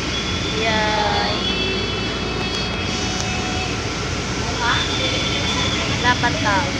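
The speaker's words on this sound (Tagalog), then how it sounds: "Nandito na kami sa tren." Steady low rumble of a moving train from inside the carriage, with broadband rolling noise throughout and brief tonal squeals, under background voices.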